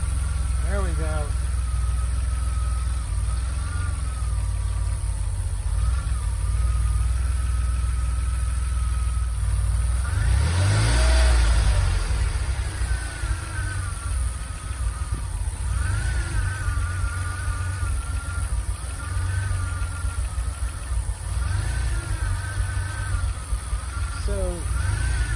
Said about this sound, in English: there's that idle screwing up again